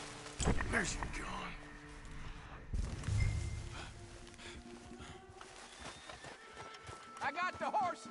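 Horses in Red Dead Redemption 2 clop and shuffle close by, with snorts and a whinny. People talk intermittently over the hooves and horse noises.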